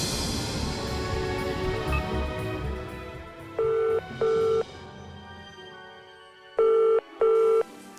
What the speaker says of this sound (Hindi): ईशान मल्होत्रा फोन क्यों नहीं उठा रहा है?